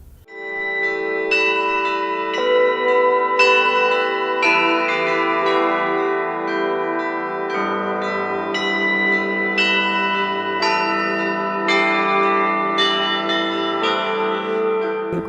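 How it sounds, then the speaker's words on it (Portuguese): Church bells in Minas Gerais ringing in a rhythmic peal, several bronze tones struck in overlapping succession with long ringing decay, loud and close, with no voices. "A linguagem dos sinos, seus significados e sua permanência nos ritos da igreja."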